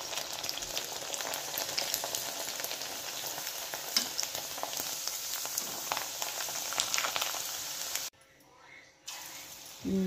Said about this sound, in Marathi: त्यासोबत मी इथे कांद्याची भजीसुद्धा बनवून घेत आहे